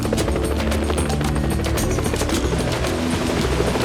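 A helicopter flies through strong wind near crocodile habitat, its rotor thumping in a rapid pulsing rhythm under a loud, constant roar of engine and wind.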